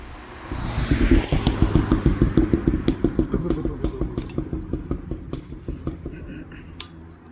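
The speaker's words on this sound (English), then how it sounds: "What weird car? It's making up so much noise." A loud, rattling engine chugs in a rapid, pulsing rhythm, building up and then fading as the vehicle moves off, with some clattering at the end.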